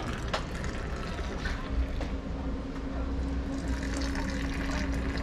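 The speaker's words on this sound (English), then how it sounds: "And you pour it from a height," Liquid poured from a height at an egg bhurji street stall splashes in a continuous gurgling stream amid busy street-food ambience and a low hum, with faint voices in the background.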